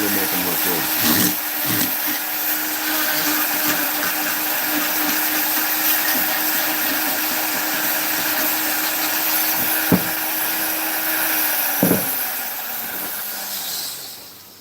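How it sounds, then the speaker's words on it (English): A rotary tool fitted with a detail burr carving wood for a small gnome home, a continuous high-pitched whine with slight pitch dips and scraping grit as it bites, a couple of brief clicks, winding down at the end. "use a detail burr to get in there"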